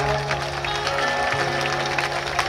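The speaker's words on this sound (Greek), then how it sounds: "χειροκροτάνε" Audience applause at a live Greek music show, a steady broadband wash of clapping that runs continuously under a sustained musical tone, fairly loud and even throughout.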